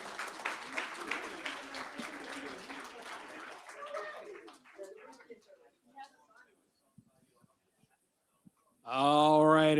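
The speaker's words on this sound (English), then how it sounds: "Round of applause, everybody." Audience applause at a school Scrabble championship, dense clapping in the first four seconds that thins into scattered claps and fades to near silence, then a brief tonal sound enters at the end.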